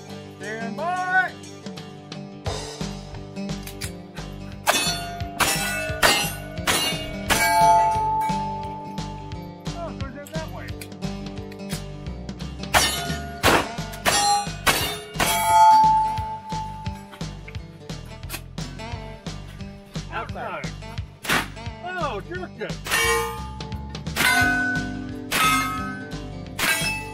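A 1911 pistol and other guns fire at steel targets during a cosplay action shooting match, with repeated sharp cracks and ringing metallic clangs in quick irregular strings. A voice talks between the volleys.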